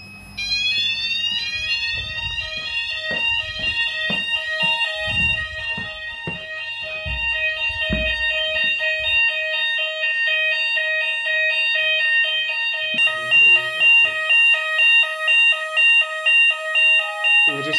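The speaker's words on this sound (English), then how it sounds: "We just had a voice evacuation speaker going off up there." A Notifier/Hochiki fire alarm voice evacuation speaker sounds during a weekly system test, its loud repeating electronic tones sweeping continuously, with clunky handling noises early on and the tone pulsing in short bursts toward the end.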